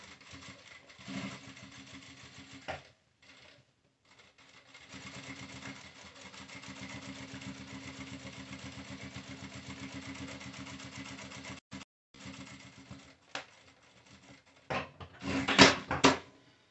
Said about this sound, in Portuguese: A gente vai virar e vai fazer a costura aqui por trás e depois cortar esse excesso.